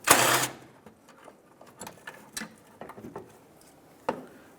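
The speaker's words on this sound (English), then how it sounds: "with a 10mm socket, unscrew the bolt that holds the horns up" A 10mm socket ratchet loosens the horn mounting bolt on a 2012-2020 Ford Focus, giving a close run of light, irregular clicks and taps after a brief louder burst at the start.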